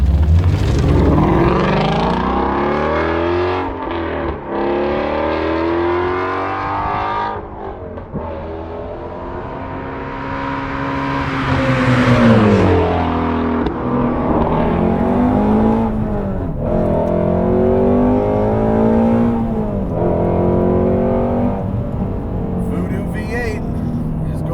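Ford Mustang Shelby GT350R engine on the road, loud and close, revving up through the gears with rising and falling pitch sweeps and a deep throaty drone, while someone talks over it.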